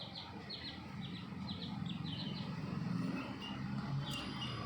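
A hen makes a run of short, repeated clucking calls in quick bursts, close and fairly faint, over a low background murmur.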